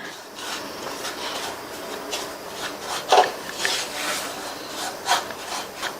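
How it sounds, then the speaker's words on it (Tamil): Semolina (rava) dry-roasts in a pan over a low-medium flame while being stirred continuously, giving a soft, steady scraping and rustling with a few slightly louder scrapes, close and fairly quiet, no talk. "8லேருந்து ஒரு 10 நிமிஷத்துக்கு கைவிடாமல் இந்த மாதிரி பக்கத்துலேயே இருந்து வறுத்துக்கலாம்"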